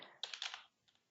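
A short burst of typing on a computer keyboard while entering a job position into an employment form: several quick, close keystrokes, then a pause and two fainter taps.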